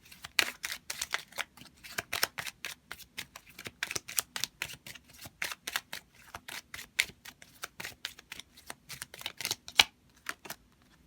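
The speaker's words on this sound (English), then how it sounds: "I'm going to get one more card on this." Tarot cards are shuffled and drawn in a long, steady run of sharp, close card flicks and riffles, rapid and fairly even in rhythm, heard alone without talk.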